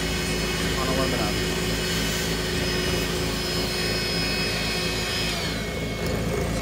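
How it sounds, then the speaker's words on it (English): A Harbor Freight mini mill cuts aluminum in a one-millimeter pass, a dense, steady whine and grinding roar holding throughout, close and loud with a faint tonal hum riding on top. "doing 1 millimeter cut on a mini mill on aluminum"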